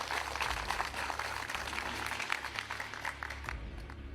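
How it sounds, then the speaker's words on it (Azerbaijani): Studio quiz show audience applauding contestants who answered correctly, a soft, steady patter of many hands clapping, fairly faint and continuous. "Mehdi Hüseynzadə və 7 nəfəri biz ürəkdən alqışlayırıq"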